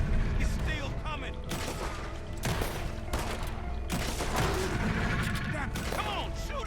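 Gunfire in Red Dead Redemption 2 aimed at a big alligator, coming as dense repeated shots and crashes mixed with game noise, with voices talking throughout.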